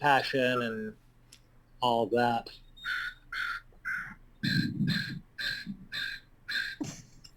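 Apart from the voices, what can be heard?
crows cawing outdoors near Horseshoe Bay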